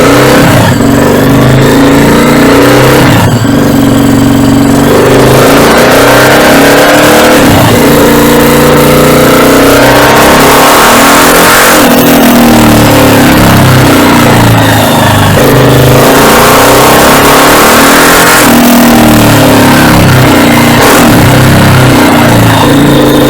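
An Athlon M250 motorcycle being ridden, its engine loud and close as it revs up and falls back repeatedly in waves, with no talking.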